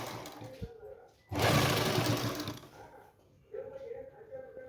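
A sewing machine stitches right along the edge of a salwar cuff backed with buckram. One loud, fast whirring run of stitching sits between quieter handling sounds.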